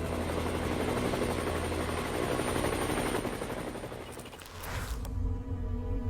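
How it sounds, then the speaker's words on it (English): A Boeing CH-47 Chinook twin-rotor military helicopter thunders close by with a loud, rapid rotor chop and engine roar that dips briefly before building again. "Boeing CH-47 Chinook"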